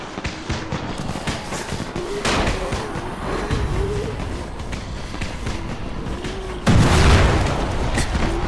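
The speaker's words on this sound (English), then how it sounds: "You still have some firecrackers, don't you? Just throw some into the crowd." Firecrackers bursting among a horde in Dying Light, heard as a series of booming pops over a constant noisy din, with a heavier, louder blast near the end.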